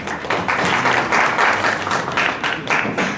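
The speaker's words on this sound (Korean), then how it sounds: "큰 박수로 모셔볼게요" Loud, dense applause from an audience at a Korean startup venture forum as a company representative is welcomed up to present. It is a steady, sustained roar of many hands clapping close by, with no speech over it.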